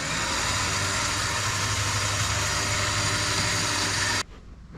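Tractor engine running at a steady idle, loud and close with a constant low drone, cutting off abruptly near the end.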